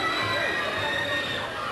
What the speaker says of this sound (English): Franklin crowd still screaming like a bunch of girls.